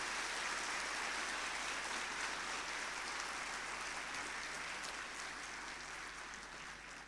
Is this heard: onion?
no